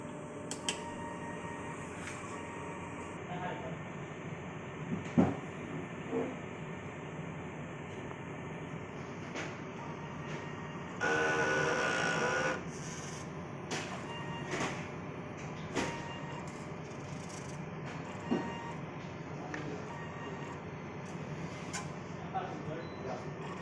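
A DTF printer runs its normal-mode cleaning cycle with mechanical whirring, clicks and a louder sustained motor burst near the middle, while a person talks intermittently.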